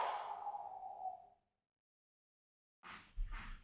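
A breathy 'chew' exhale from a kidney qigong healing-breath exercise, one soft, airy out-breath that fades after about a second, followed by a pause and a brief faint breath sound.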